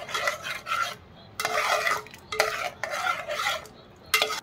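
A spoon stirs sugar into Rooh Afza milk, giving repeated scraping and clinking strokes against the glass in uneven bursts, close and clear, with no voices.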